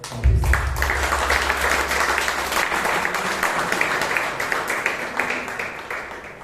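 Applause from the audience at a Toastmasters club meeting in Bangalore, a dense wash of hand clapping that starts abruptly after a brief low thump and carries on steadily at moderate loudness.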